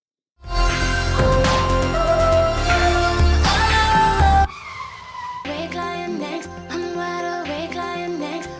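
Loud screeching tires and a revving car sound effect in a song burst over the music, then stop abruptly as a cleaner rhythmic musical section continues.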